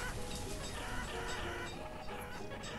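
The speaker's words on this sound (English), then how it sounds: "Those chickens are very, very noisy" Chickens cluck continuously on a farm in the video game Banished, a dense busy chatter of fowl with a crowing note, steady and fairly loud throughout.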